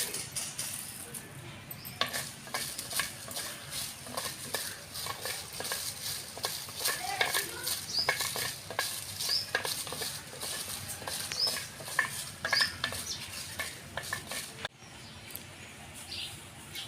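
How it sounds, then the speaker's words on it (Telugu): Dried red chillies and peanuts fry in a pan, with a continuous crackling, popping sizzle and occasional stirring scrapes close by, briefly interrupted near the end, with no talk. "పల్లీలు కూడా వేగినాయి దించుతానా ఎండిన మిరపకాయలు వేస్తాను"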